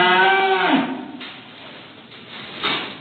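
A cow lets out a loud, close, drawn-out moo that tapers off, followed by quieter rustling and a short knock.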